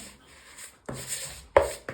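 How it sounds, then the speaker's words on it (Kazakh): Soft rubbing and pressing sounds of hands working dough on a surface, with a couple of muffled thumps, close and quiet. "Енді осылай үстелдің үстіне бір тегіс болғанша илейміз."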